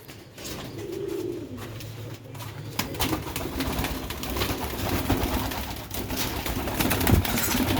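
Sialkoti rooftop pigeons coo in low, throaty rolling calls, close and steady, mixed with rustling, scratching and occasional wing shuffles on the roof.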